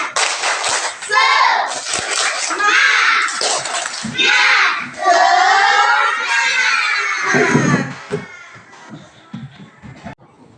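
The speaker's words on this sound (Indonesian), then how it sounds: "Ayo, tepuk semangat" Schoolchildren in a classroom chant a rhythmic clapping cheer in loud unison, their high voices rising and falling close by, with claps mixed into the chorus for about ten seconds.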